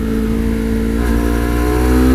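Honda CBR250RR MC51 quarter-litre sport motorcycle engine revving steadily as the throttle opens, a loud, close, continuous buzzing drone with strong harmonics and a slight rise toward the end, no talking.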